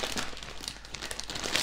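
Crinkling plastic bag holding LEGO pieces for the Harry Potter Hogwarts Great Hall set 75954, torn open and handled close up in a steady, busy rustle with no talking.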